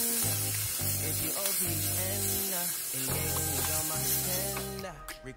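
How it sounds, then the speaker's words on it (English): Cactus sizzles loudly and steadily in a pan over high heat, a dense continuous frying hiss with no talking, while music plays underneath. "On high heat, cook the cactus on both sides on 4 minutes each side"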